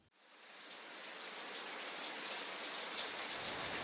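Rain falls steadily outdoors in the evening, a dense, even hiss of drops swelling in after a brief start and holding constant throughout, with no voices.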